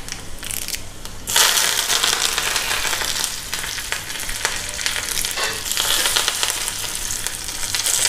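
Curry leaves hit hot oil for a raw mango and thota kura chutney, setting off a sudden loud, crackling sizzle that continues steadily and close.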